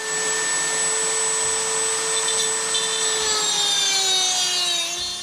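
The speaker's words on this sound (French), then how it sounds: "je vais tenter à la Dremel de couper le rivet et" A Dremel rotary tool cuts through a rivet while restoring a 1980 Motobécane 51 Black S moped, giving a steady high whine with shifting pitch as the bit bites into the metal.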